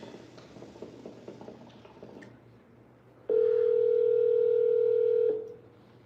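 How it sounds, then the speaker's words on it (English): A telephone dial tone sounds loud and steady for about two seconds after a stretch of faint handling and tapping noises, then cuts off abruptly, with no speech heard. "Let's call Rodolfo."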